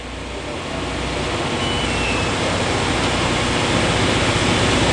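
An 870-S spin rinse dryer fitted with custom rotors speeds up into a steady circular spin, giving a loud, continuous broadband whoosh that builds slightly and holds for several seconds without talk.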